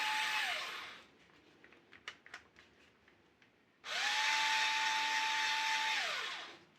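A Black+Decker cordless screwdriver spins freely with no bit in, two whirring runs: a short one that winds down, then a longer, loud, steady whine that spools up and cuts off, with faint handling clicks between.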